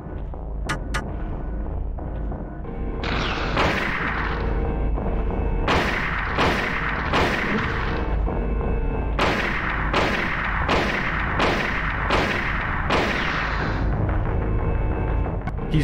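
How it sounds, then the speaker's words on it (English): Hunting rifle gunshots in Silent Hill: a series of sharp, loud single shots in uneven rhythm, about ten reports with a few clustered close together over a steady rumbling background, no voices. "I'm going to use the hunting rifle now."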